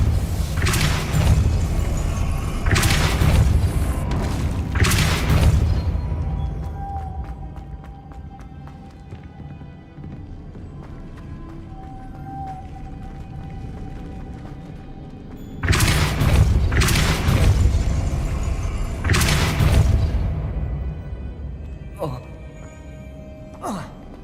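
Magical Depulsor spell blasts in a Hogwarts Legacy duel, heavy booming bursts near the start and again around the middle, with thuds and clatter between and a lingering hum in the quieter gap.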